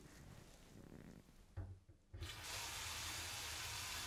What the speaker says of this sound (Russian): Сейчас мы включим горячую воду на кухне и потом через какое-то время горячую воду в ванной.